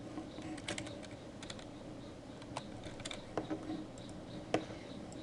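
Keys clatter on a computer keyboard in a quiet room, soft irregular clicks in short bursts with small pauses, close but faint against a low background hum.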